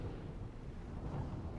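Storm ambience from the fishing video game Dredge: a steady low rumble of thunder and rain, dense and continuous, with no distinct cracks and no talk.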